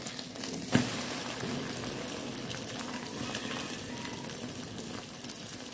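Homestyle Thai omelette frying in a hot pan, a faint continuous sizzle and crackle with one small knock near the start, no voices.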